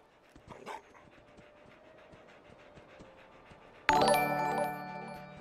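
A dog in the video game Fallout 4 pants quickly and steadily, soft and close, for several seconds before a bright chiming sound rings out and fades.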